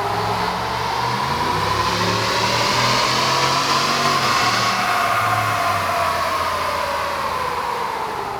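A 2019 Ram 1500 pickup with a 5.7-liter Hemi V8 strapped to a dyno, running a loud, steady pull with the engine note rising and falling smoothly over several seconds, no talking.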